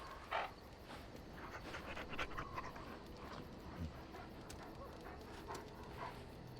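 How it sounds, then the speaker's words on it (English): A Mabari war dog in the video game Dragon Age Origins pants in quick, steady breaths mixed with small whimpers, faint and close against a low background hum. "I love dogs. I love Loki. He's happy."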